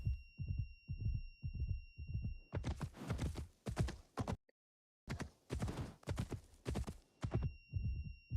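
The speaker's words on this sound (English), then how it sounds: "I love just hearing horses ride." Horse hooves pound the ground in Assassin's Creed Shadows, a rhythmic galloping clip-clop that is close and steady, broken by a brief silent gap before the hoofbeats resume.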